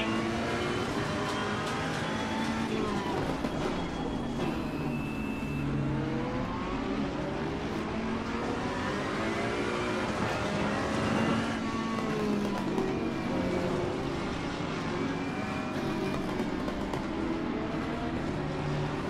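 A race car in Assetto Corsa Competizione, played in VR, burbles and revs through its exhaust with rising and falling engine tones, loud and continuous.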